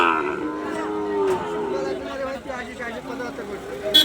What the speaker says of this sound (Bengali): লম্বা চড়া সাইজের দুইটা শাহিওয়াল জাতের গরু দেখতে পারতেছি